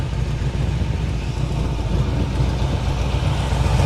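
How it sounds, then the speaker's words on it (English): A 1977 Chevy Monte Carlo V8 idles roughly with an uneven, loping low rumble, running poorly and close to stalling, heard steadily and up close with no talk. "So it's just running bad. It's not idling smooth like it should."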